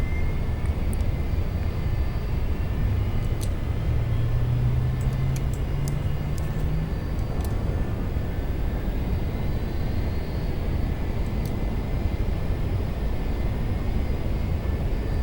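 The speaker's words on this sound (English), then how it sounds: "let's go ahead and get engine number 1 started" A Learjet's number 1 engine spools up in FSX, a steady whining, droning roar with a faint rising tone early on, continuous and fairly loud with no talk over it.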